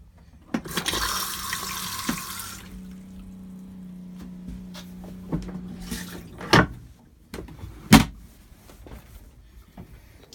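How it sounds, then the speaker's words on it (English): Electric toilet flush in a motorhome, heard as a rushing water burst over the first few seconds followed by a steady low pump hum, then scattered clicks and knocks of fittings. "Electric flush."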